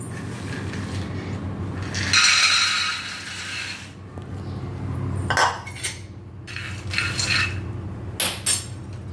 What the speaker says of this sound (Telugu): ముందుగా మనము పల్లీలని వేపుకున్నాం